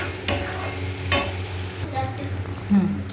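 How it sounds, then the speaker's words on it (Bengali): Potatoes being sautéed with spice masala in oil in a pan, a steady sizzle and fry under repeated stirring scrapes, close and fairly loud, with no talk. "মশলাটা সুন্দর করে কষিয়ে নেব। কষানো প্রায় হয়ে গেছে, যে তেল ছেড়ে গেছে, আর একটু কষিয়ে নেব।"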